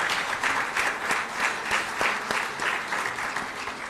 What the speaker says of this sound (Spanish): Un aplauso a nuestro gobernador del estado,